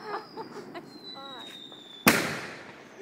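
A single sharp city firework bang cracks loudly high overhead and trails off in a crackling echo, preceded by a thin whistle and distant voices.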